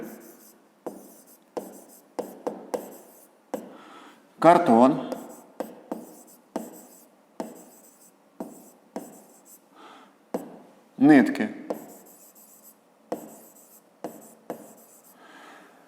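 A pen scratches across notebook paper in a physics lesson, short strokes recurring steadily for the whole stretch under a person's ongoing speech.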